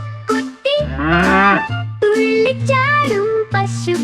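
A calf moos loudly and close by in several drawn-out calls with short breaks between them, heard alone with no talking.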